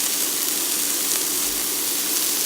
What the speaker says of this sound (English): Now I'm going to add some oil. Skillet. I'm using avocado oil.